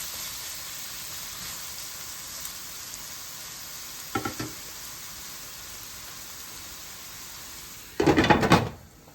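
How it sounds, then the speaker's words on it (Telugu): Onions and green chillies frying under a lid in a pan, a steady soft sizzle with two short bursts of metallic clatter from the lid or a utensil. "ఆనియన్ కొంచెం బాగా మెత్తగా అయ్యే వరకు మనం ఇలా మగ్గించుకుందాము"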